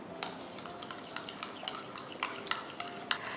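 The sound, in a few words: mixing salad dressing of salt, black pepper and lemon juice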